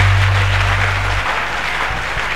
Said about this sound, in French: Acclamons encore le Seigneur